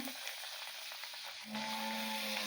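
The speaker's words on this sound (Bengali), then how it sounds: "দেখো এতগুলো লুচি ভাজা হয়ে গেছে" Luchi puffed flatbreads deep fry in hot oil on a winter night. A faint, steady sizzle runs throughout, and a low hum comes in about halfway.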